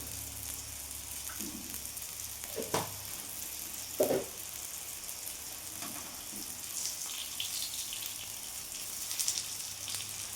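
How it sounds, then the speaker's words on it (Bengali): Whole cumin seeds tempering in hot oil for a Bengali egg and pointed gourd fry, a steady close sizzle with a few sharp pops and crackles, no talking. "এইভাবে সাইডে রেখে আমি এখানে গোটা জিরে ফোড়ন দিয়ে দেবো।"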